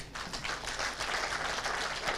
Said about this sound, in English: please join me to give a resounding applause to Dr. Benjamin Musita